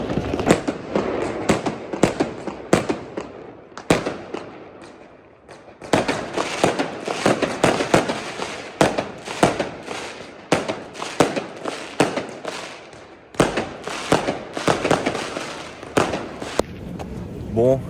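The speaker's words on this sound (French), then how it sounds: "Il y a des feux d'artifice de partout, c'est vraiment trop beau." Rapid bursts of New Year's fireworks in Milan crackle and bang throughout, dense overlapping pops with brief lulls, loud and close, with voices murmuring underneath.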